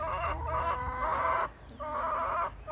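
Backyard chickens cluck and chatter nearby in a busy, continuous run of calls, with a brief lull partway through before the clucking picks up again.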